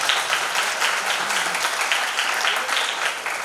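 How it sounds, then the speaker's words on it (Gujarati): Steady audience applause at a Saraswati honour ceremony of the Vaishnav Brahm Ramanandi Sadhu community in Junagadh, many hands clapping in a dense, continuous wash for a few seconds, with no talk over it. "આ બાળકને ખાસ તાળીઓના ગડગડાટથી"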